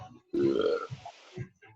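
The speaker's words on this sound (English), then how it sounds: "Oh, just burp." A single loud, drawn-out burp from someone on a group video call for an intermediate poi flow class, followed by a few faint low murmurs.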